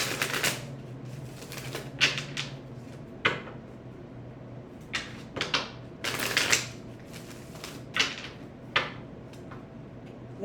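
Cards are shuffled and riffled close up, with repeated sharp flutters and snaps in irregular bursts over quiet background hum.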